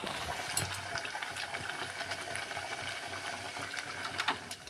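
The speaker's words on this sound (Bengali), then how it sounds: "ডাল ফুটছে।" Reheated leftover dal (lentil curry) bubbling in a pot as it boils and thickens, giving a steady close bubbling and sizzling texture with scattered soft pops throughout, heard alone.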